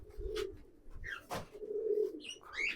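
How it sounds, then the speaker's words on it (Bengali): Several loft pigeons coo in soft, rolling bursts at close range, overlapping one another with a brief sharper call in the middle, with no voices present. "খুবই সুন্দর সুন্দর পায়রা বন্ধুরা"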